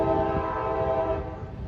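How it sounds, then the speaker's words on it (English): CSX local freight train L783 rolls through a siding on the Palmetto Subdivision near Tampa, its horn sounding loud and close in one sustained blast that fades slightly, with low rumble and wheel noise beneath. "CSX's L783 will be rolling on through from the Yeoman Yard throughout the Palmetto subsystem"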